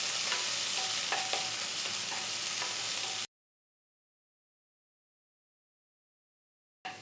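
Finely chopped onion and two green chillies sauté in a pan for chicken kurma, with a dense, even sizzle and a few stirring scrapes, then sudden silence and a brief return of sizzling at the end.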